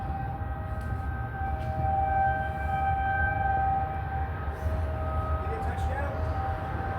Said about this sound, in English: As you can hear, the sirens are going off.